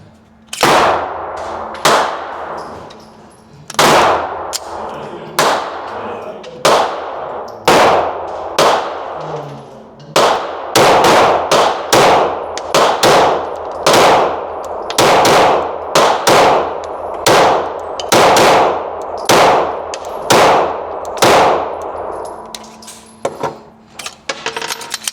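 A Glock 17 Gen 6 pistol fires roughly twenty sharp, loud shots outdoors, spaced at first, then in quicker strings, each crack followed by a short ringing decay.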